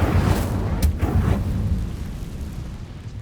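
Incendio fire spell cast in Hogwarts Legacy, a loud rushing whoosh of flame with a sharp burst early on, then a roaring rumble that slowly fades.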